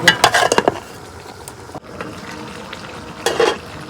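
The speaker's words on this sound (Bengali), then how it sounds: "পানি ছাড়াই আমি কষে নিতেছি" Fish and bottle gourd curry sizzling in a pan without water while a utensil scrapes and stirs in bursts, with quieter frying hiss between the strokes.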